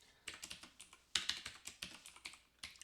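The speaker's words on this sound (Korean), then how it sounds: "컨트롤을 누른 상태에서 엔터를 이렇게 누르라는 얘기예요." A computer keyboard is typed on, with the Ctrl and Enter keys among those pressed: a quick, close run of a dozen or so crisp clacks, one louder press in the middle, and no voices.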